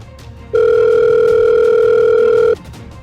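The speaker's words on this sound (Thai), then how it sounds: "เบนรับโทรศัพท์ฉันหน่อยสิเบน" In a Roblox Ben 10 game, a phone gives a single loud, steady electronic tone lasting about two seconds, alone against quiet background.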